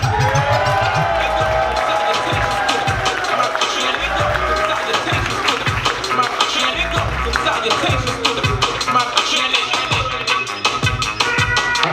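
Lively crowd at a DC hip-hop honors event cheering and whooping for a DJ, with scattered clapping, loud and sustained throughout, shouts rising above the noise.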